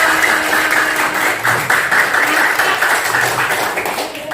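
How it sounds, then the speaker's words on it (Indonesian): Classroom of students applauding together, a loud, steady wash of many hands clapping close by for the full stretch, with no talk over it. "Kasih tepuk tangan untuk kalian semua"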